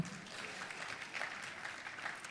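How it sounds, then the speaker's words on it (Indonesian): An audience claps together at a church gathering, a steady wash of moderate applause that holds evenly throughout without voices on top. "Kita kasih tepuk tangan saudaraku."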